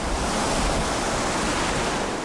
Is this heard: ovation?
no